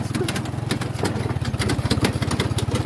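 Motorcycle engine running steadily with a pulsing, rhythmic beat, close and fairly loud while riding along a rough path through a pasture, with a few sharp clatters over the top.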